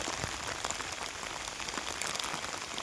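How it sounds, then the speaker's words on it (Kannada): Steady, dense heavy rain pours down over a farm field, a constant broadband hiss with scattered drops pattering on a hard surface, loud and close throughout. "ಮಳೆ ಅಂದ್ರ ಸಿಕ್ಕಾಪಟ್ಟೆ ಜೋರೈತಿ"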